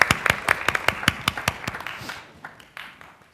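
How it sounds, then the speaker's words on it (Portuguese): Children applauding after a song about bees, starting with crisp, evenly spaced claps that grow quicker and scattered, then thin out into a few last hand claps. "Palmas para as nossas abelhas."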